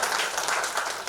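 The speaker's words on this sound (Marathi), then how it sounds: "तर एकदा आपण टाळ्या वाजवूया" An audience claps at a launch event for a film's haldi song, a brief, dense burst of applause heard close and loud with no talk over it.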